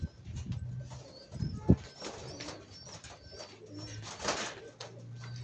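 Newly bought colored pigeons cooing in a loft, several soft rolling coos spread across the stretch, with a brief loud thump and some shuffling in between.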